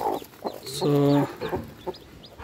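A native hen clucks in short, close calls beside newly hatched chicks on a farm, with one sustained harmonic call in the middle and brief speech around it.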